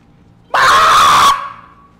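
A voice imitates screaming-style music with one sustained, loud, harsh yell of about a second that cuts off sharply and leaves a short ringing tail.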